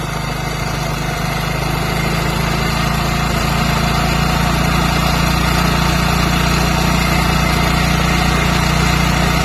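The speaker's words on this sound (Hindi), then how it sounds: "तो देखिए बाइक की रेस धीरे धीरे बढ़ रही है" A Hero Splendor motorcycle engine idles loudly and close, a steady buzzing drone with a low hum that rises slightly in pitch as the revs climb while the carburetor screw is adjusted.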